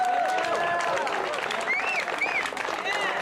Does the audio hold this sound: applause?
yes